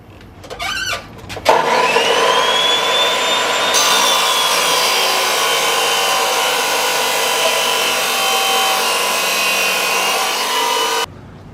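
A metal part for mounting a Land Rover viscous coupler on an AWD Honda is cut to length. Loud, continuous abrasive cutting with a shifting whine runs for about ten seconds, then stops abruptly.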